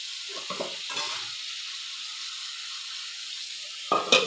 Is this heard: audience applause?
no